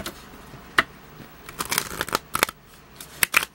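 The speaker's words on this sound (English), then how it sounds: "Cards are flippy. Let me give a shuffle." Close, crisp papery riffles and snaps of cards being shuffled in short irregular bursts, with quiet gaps between them.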